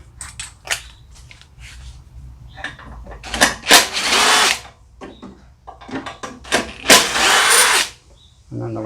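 A power tool buzzes in short bursts and longer runs while backing out two 3/8 carburetor bolts on a Briggs and Stratton small engine, close and fairly loud with clicks in between.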